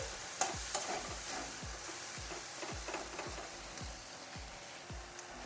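Potatoes stirred in a frying pan with small molonti fish for a Bengali curry, a steady rhythm of scraping strokes repeating about every half second over a continuous hot sizzle, close and moderately loud.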